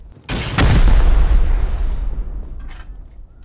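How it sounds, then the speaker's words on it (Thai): A booby trap explodes in the game Rust, one heavy, close boom with a sharp onset that rumbles and decays over a few seconds, followed by faint distant crackles. "กับดักระเบิดเต็มเลย"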